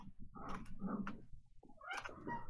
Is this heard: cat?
yes